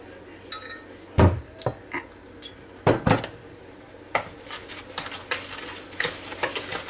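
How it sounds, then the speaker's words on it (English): A utensil stirs flour and sugar in a bowl, scraping and clinking against the sides in irregular bursts. A few louder knocks and taps come through, then quicker rattling stirs near the end. "let's give that a little stir around so we're sort of mixed together"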